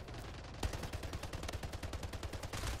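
Rapid automatic gunfire in a video game, a dense stream of sharp shots firing continuously, loud and close, with no voices.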